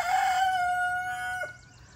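A garden rooster lets out one loud, close crow, a long sustained call that breaks off sharply near the end.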